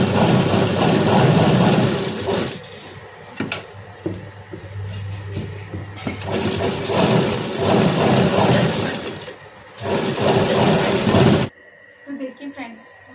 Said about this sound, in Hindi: ये मैं जो तीनों साइड मैंने पतला फोल्ड किया था वहाँ पे किनार से वापस सिलाई लगा दूंगी